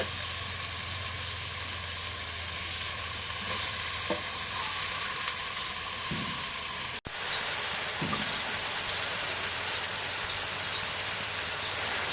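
Spice masala with salt and leaves is being sautéed in a pan, giving a steady broadband sizzle and frying hiss throughout, with a few soft stirring scrapes and a brief dropout near the middle; no talking.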